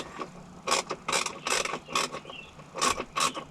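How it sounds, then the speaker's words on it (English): A T20 Torx driver backs out small screws on a 4th-gen Ram 1500-3500 while a tow mirror harness goes in, giving rapid bursts of ratcheting clicks in quick repeated runs, close up and without talk. "use your T20 and remove these little Torx screws"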